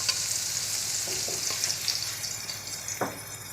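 Dried fish fries with onion in a pan with a bright, continuous hiss close by. Brief stirring scrapes break through it, and one firmer scrape comes near the end.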